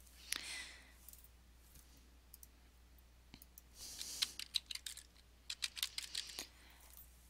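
Typing on a computer keyboard while entering a file name for a web page background: short bursts of key clicks at close range, alone with no talk, broken by pauses and a denser run near the end.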